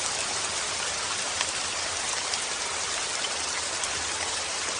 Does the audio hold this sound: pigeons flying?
no